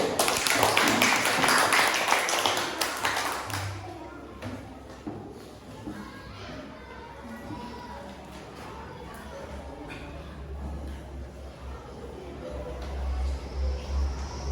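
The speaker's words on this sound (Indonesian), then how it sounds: "Iya, tepuk tangan dulu." A classroom group breaks into applause, a dense burst of many hands clapping for a few seconds before it fades into room noise and faint shuffling.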